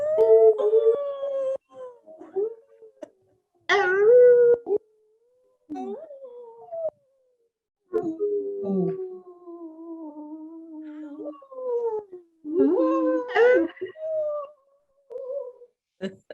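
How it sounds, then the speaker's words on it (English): A gray wolf howls in long, wavering, moaning calls broken by pauses, with several overlapping howls and short yips later on, fairly close and clear against a quiet background. "A howling gray wolf."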